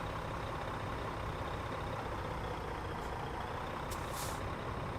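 A Kenworth T680 truck in American Truck Simulator rumbles steadily at idle, and two short, sharp hisses of the air brakes come partway through.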